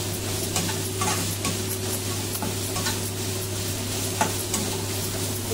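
Chicken fried rice stir-fried in a pan over a high gas flame, a steady loud sizzle broken by repeated scraping stirs and clinks of a spatula against metal, with a low hum of the burner underneath and no voices.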